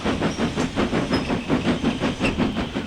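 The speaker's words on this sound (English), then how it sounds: "Three-quarters regulator and 1 notch back on the reverser, and the loco is climbing steadily." A steam locomotive on a heritage railway climbs a steady 1 in 50 gradient, giving a rhythmic, evenly spaced chuffing beat with wheel clatter and hiss, close and continuous.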